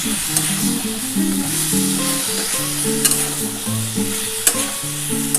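Spiced potato and pointed gourd curry with tomato and ginger being fried and stirred in a pan, giving a steady close sizzle with scraping stirs, a few sharp clinks, and tonal hum-like layers beneath, with no voices.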